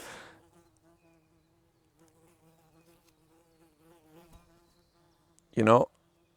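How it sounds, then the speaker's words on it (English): Stinging insects buzz around outdoors, a faint steady hum that swells into a sudden loud buzz as one flies right past, close and brief near the end. "With these insects around me, you never know which one is gonna fucking sting you."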